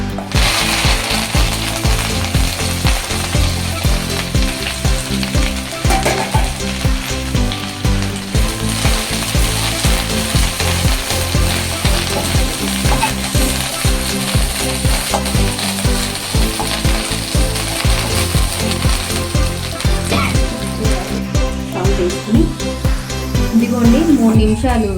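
Curry leaves fry in a pan for a curry-leaf spice powder, giving a steady, close crackling sizzle with rattling clicks that runs unbroken throughout, with no talk over it.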